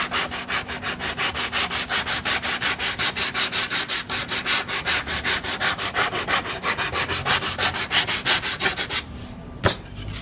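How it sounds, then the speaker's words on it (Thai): Sandpaper rubbed by hand over a curved piece of cut wood, a steady run of close, rhythmic rasping strokes about twice a second, ending with a single sharp knock. "เราก็มาเอากระดาษทรายเก็บ"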